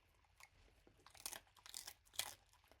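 A dog crunching and chewing a treat up close, several soft crackling bites in quick bursts over a quiet room.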